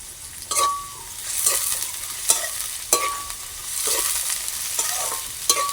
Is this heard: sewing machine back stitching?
no